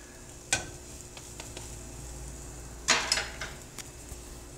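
A pancake cooks in a hot pan with a faint, steady sizzle, broken by two sharp scrapes and clatters as a spatula flips it, plus a few light taps.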